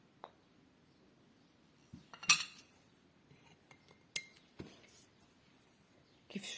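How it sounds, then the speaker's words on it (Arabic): A spoon clinks and scrapes in a gourd bowl while mixing licorice root and other home cough-remedy ingredients, giving a few sparse, quiet metallic taps and stirs among near silence. "كيف شفتوا هكا كنخلطوهم مزيان مع بعضياتهم."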